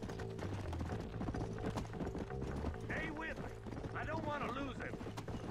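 Horse hooves clip-clop steadily in the Western video game Red Dead Redemption, a continuous close rhythm under game music, with a couple of whinnying cries and someone talking over it.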